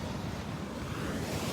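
Ocean waves wash onto a beach at sunset, a steady, fairly loud surf roar with wind rumble on the microphone and no voices.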